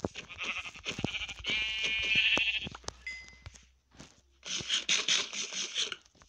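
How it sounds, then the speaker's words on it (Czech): Sheep bleats from the video game Minecraft, a few close nasal wavering cries, the second longer and drawn out, separated by brief pauses with soft game noises. "Tohle je ovce."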